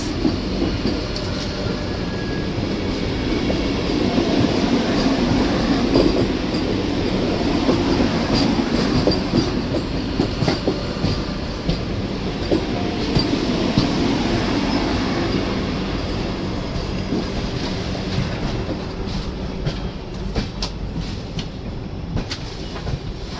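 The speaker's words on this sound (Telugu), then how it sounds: "crossing with Yesvantpur Kachiguda Vande Bharat superfast express" An Indian Railways express passes the Yesvantpur–Kacheguda Vande Bharat Superfast Express before Dharmavaram Junction, giving a steady, loud rumble of wheels and carriages with rhythmic clatter and faint squeals heard from on board, no talk.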